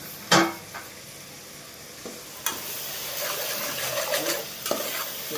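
Rice for kushka biryani with curry leaves is stirred in a pot, a soft sizzle running under intermittent scraping strokes of a spoon against the metal, with a sharper clank near the start.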